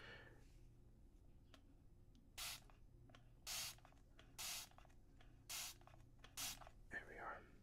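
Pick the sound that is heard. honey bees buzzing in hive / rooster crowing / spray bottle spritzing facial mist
spray bottle spritzing facial mist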